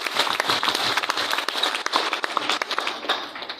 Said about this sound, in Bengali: করতালি আশা করছি।